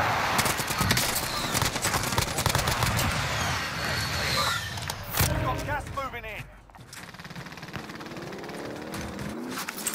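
Gunfire in a shooter video game with AN-94 and Mac10 weapons, rapid automatic bursts rattling loudly and continuously alongside mechanical clatter, with a voice talking over parts of it.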